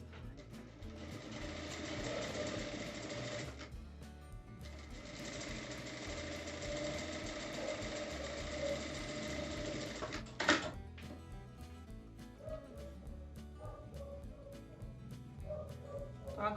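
A sewing machine stitches a folded fabric strip for a drawstring bag, running in two long steady bursts with a brief pause between, then quieter handling sounds.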